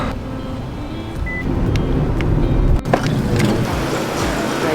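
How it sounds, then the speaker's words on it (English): Steady road rumble and engine drone from inside a car driving through Malé, Maldives, loud and continuous, with a sharp knock partway through. "First time in a car in forever."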